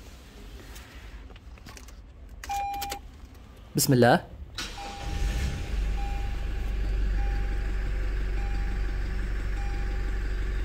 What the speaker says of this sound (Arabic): أسمعكم الآن صوت تشغيل التويوتا برادو ديزل، وطبعا تشغيل السيارة عن طريق المفتاح.